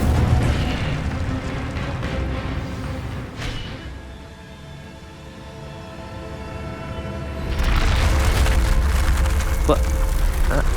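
An Incendio fire spell is cast in the video game Hogwarts Legacy, a loud roaring whoosh of flame that fades into quiet ambience and then surges back as a sustained fiery rush, with a voice speaking briefly.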